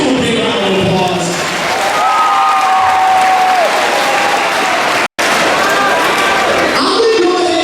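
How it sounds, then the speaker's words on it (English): Audience at a school BMX show applauding and cheering, a dense, loud wash of clapping and crowd noise that continues throughout with a brief dropout, with a few whistles and shouts mixed in. "Let's give them a big round of applause."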